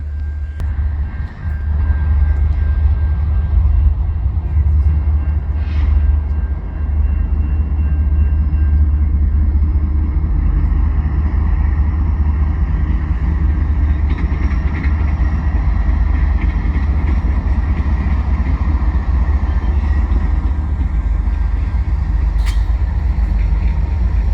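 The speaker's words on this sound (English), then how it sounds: "And here comes the train." A freight train rumbles past nearby crossing the Lachine Canal bridge in St Henri, with a steady, heavy low roar and faint squeals and hisses, continuous throughout with no talking.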